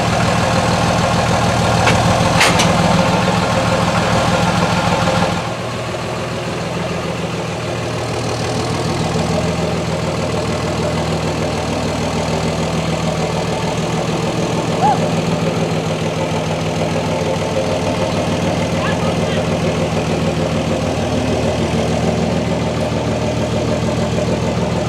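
A pickup truck with a short bed idles steadily while being hitched to a trailer, a continuous mid-low engine rumble that stays close and even, with a brief shift in tone early on and no talking.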